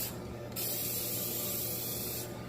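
An aerosol spray can hisses steadily for about two seconds as paint goes onto a table being restored, close and constant, with a brief softer start and finish.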